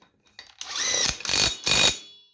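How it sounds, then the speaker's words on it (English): An impact wrench tightens a bolt on a Craftsman DLS 3500 riding lawn mower in three quick rattling bursts, loud and close, separated by brief pauses. "I strongly suggest for this bolt here to use the impact."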